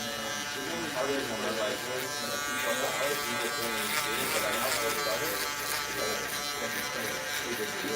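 An electric hair trimmer cutting a fade buzzes steadily and closely for the whole stretch, with a rich harmonic drone that wavers slightly as it moves through hair.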